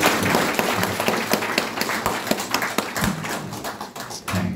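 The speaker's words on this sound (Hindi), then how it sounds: "आप सब अपने लिए जोर से ताली बजाएं" An audience at a Brahma Kumaris motivational talk claps loudly together. The applause is dense and steady, with sharp hand claps running through the whole stretch.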